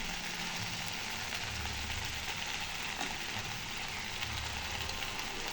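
Telugu-style okra (bhindi) fry steaming under a lid in a covered pan, giving off a steady, faint, even sizzle with no breaks.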